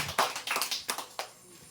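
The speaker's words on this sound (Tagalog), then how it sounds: "Isang malakas na palakpak po para sa ating Panginoon" A church congregation claps together after a call for loud applause in a Filipino worship service, a brief burst of several sharp, uneven handclaps that trail off within about a second and a half.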